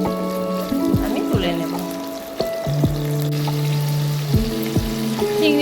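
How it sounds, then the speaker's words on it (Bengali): Shrimp fry in hot oil in a home kitchen, a steady close sizzle running throughout beneath a voice and other tonal sounds. "চিংড়ি মাছগুলো এবার একটু ভেজে নেব খুব বেশি কড়া করে ভাজলে শক্ত হয়ে যাবে"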